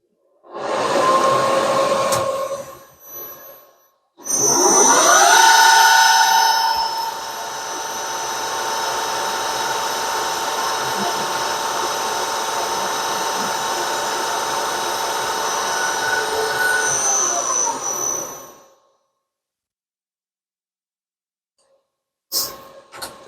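A drill runs a 2.5 mm tapping hole for an M3 thread in metal, a short centre-drilling burst first, then a steady high whine held for about fourteen seconds before it cuts off, with no speech.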